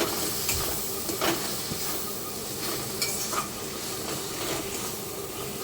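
Jackfruit and prawns sautéed with cumin and coriander powder in a pan, a steady hiss and sizzle with occasional scraping strokes of a spatula.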